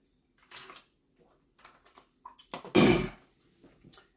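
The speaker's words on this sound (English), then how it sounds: "let me get some water" Drinking water poured out, heard as a short splashy gush in a quiet room, preceded and followed by small knocks and handling sounds.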